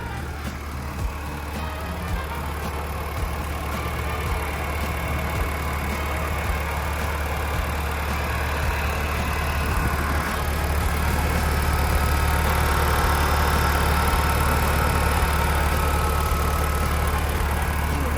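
A heavy turbo diesel engine of a 12-ton Komatsu PC120-8 excavator runs steadily up close, a continuous low rumble and whir without pause.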